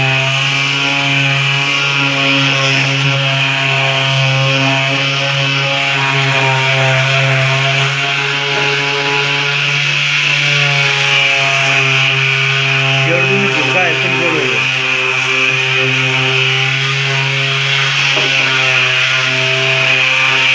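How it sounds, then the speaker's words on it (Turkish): Power sander grinding continuously over a car body surface during bodywork repair, a loud steady buzzing whine with rough rubbing texture, close and unbroken, with someone talking over it partway. "hem de pürüzsüz bir şekilde alabiliyoruz zımparayla."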